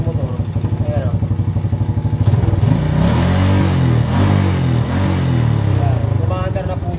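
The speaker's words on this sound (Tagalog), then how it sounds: "bali umaandar na po yung motor" A Honda Wave 125 motorcycle, started after years in storage, idles nearby with a steady putter, then revs up briefly and settles back to a lumpy idle, with someone talking over it.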